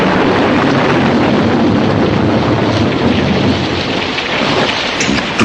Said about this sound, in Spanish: El trueno retumbaba.